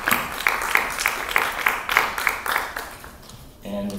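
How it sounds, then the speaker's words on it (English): An audience at a technology keynote awards ceremony claps for an award winner with steady, evenly spaced claps. The clapping fades after about three seconds and a voice follows. "Let's have a round of applause for Best in Show Software, Essentia, in the EDA space."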